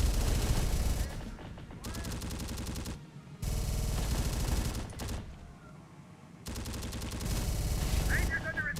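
Sustained bursts of automatic gunfire in the video game Terminator: Dark Fate Defiance, loud rapid rattling in several long volleys with short pauses, with voices calling out in between.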